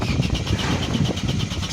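An Opel Astra engine catches and runs with a steady, rough mid-pitched drone that stays loud and continuous throughout, with no voices over it.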